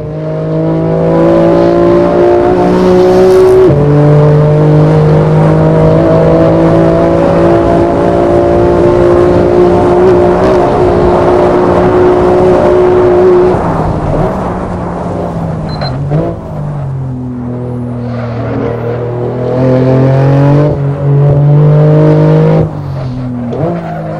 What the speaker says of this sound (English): let you enjoy the sound of this BMW